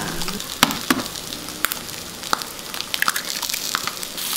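Ham and hotdogs frying in butter in a pan, a steady close sizzle with scattered sharp pops and crackles, no talking.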